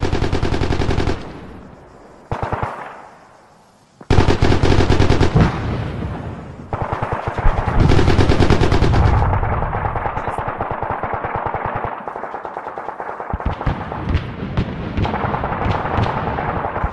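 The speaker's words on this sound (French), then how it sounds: "Et on entend tirer, on voit les images." Gunfire echoes around Minova in eastern Congo: loud bursts of rapid automatic shots, some long sustained volleys and some clipped short, with brief pauses between the bursts.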